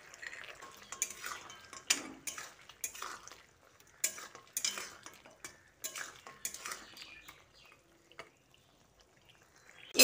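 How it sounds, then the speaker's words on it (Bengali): Fried lentil dumplings being stirred into cooked papaya and potato in a pot, giving irregular scraping and clinking of a utensil against the metal, close and moderately quiet, with no talk. "এবার এর মধ্যে ভেজে রাখা বড়িগুলো মিশিয়ে দিচ্ছি।"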